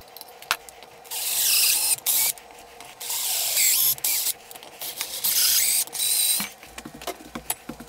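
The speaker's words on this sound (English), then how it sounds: "so now I'm going to drill and then tap" Bursts of high-pitched drilling and tapping into metal come and go, several sustained whining runs separated by short pauses and clicks.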